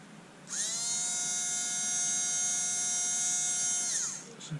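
A Bosch Ixo cordless screwdriver, freshly oiled after repair, whirs steadily for about three and a half seconds with a high, even motor whine, starting and stopping cleanly, close up and alone.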